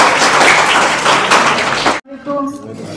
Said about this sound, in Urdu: تالیوں سے استقبال ہو، کم از کم ان لوگوں کی حوصلہ افزائی کریں۔